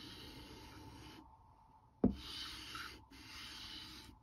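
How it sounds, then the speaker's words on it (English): A rotary cutting blade is pushed through a handheld sharpener, a quiet continuous grating rub with a short sharp click midway and a brief dip, close and faint, with no talk. "you push it forward, and you can actually feel a grating happening on your blade, which is obviously sharpening"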